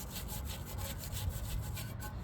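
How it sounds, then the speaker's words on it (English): A plastic scraper rubs steadily across metal engine parts, scraping off grime in a continuous close, rasping stroke with a faint regular pulse and no pauses. "Just a plastic scraper so that I don't scratch"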